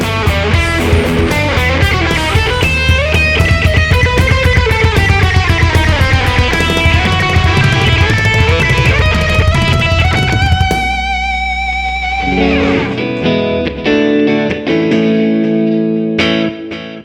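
An electric guitar plays through a downloaded third-party Kemper amp profile, with a distorted tone, chords and melodic lines that ring out loud and clear. Near the end it drops to sparse, sustained notes.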